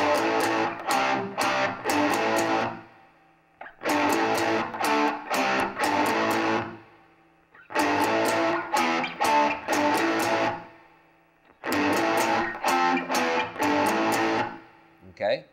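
Distorted electric guitar power chords come in four loud bursts of chugging, right-hand-muted strums, each cut off sharply into a clean silence between phrases.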